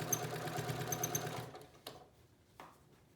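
A domestic sewing machine stitches binding onto a quilt, running in a steady close mechanical whir for about a second and a half, then stopping, with only a few faint handling clicks and taps afterward.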